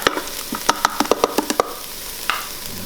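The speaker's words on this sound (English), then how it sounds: "add the garlic and just a little bit of the broccoli. We're going to cook that for just a minute." Garlic and broccoli sauté in a Ninja Foodi, a rapid run of spatula taps and scrapes over a light sizzle, then a pause and one last scrape.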